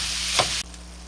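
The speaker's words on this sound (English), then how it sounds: "we're going to let this cook, stirring it once in a while until the meat has browned" Ground meat with garlic frying in a pan, a loud hissing sizzle with a brief stirring scrape before the sound abruptly drops to a quieter simmer.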